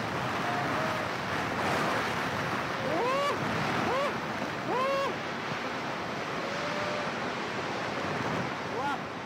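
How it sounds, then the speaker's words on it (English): A roaring storm of spray and wind at the base of Angel Falls, a steady heavy rushing wash that fills the whole stretch, with brief tonal calls or voices faintly rising above it. "buckets of water hail down"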